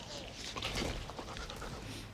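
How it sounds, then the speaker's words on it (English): A dog pants rapidly and steadily up close, its rhythmic breathing running continuously over rustling and low background noise. "This dog's awesome."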